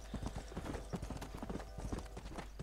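Steady clip-clop of horse hooves trotting in the video game Red Dead Redemption, in a quick, even rhythm, close and clear over a low background hum.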